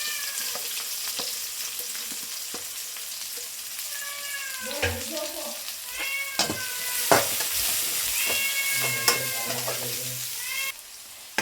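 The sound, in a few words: onion frying in hot oil with roasted chillies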